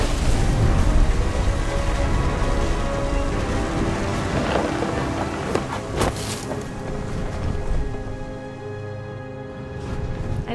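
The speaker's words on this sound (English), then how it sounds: "The thunder sounded much too close and full of angry power" Steady, heavy rain pours in the What Remains of Edith Finch video game, with loud thunder rumbling and a few sharp cracks partway through, fading slightly toward the end.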